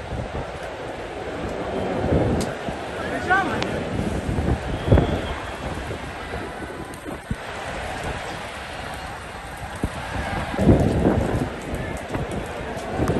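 Steady rain pours down on a cricket stadium crowd at the 2023 IPL final, with gusty wind buffeting the microphone, a broad continuous hiss with occasional louder splashes and faint voices in the background.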